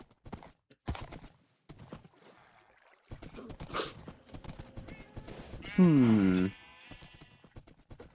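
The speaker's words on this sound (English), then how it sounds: "There he is, my horse. Come here, my horse. We are riding off to the nether portal" Horse sounds in Minecraft, with a loud, strained neigh rising and falling near the end, preceded by scattered game noises and voices talking intermittently.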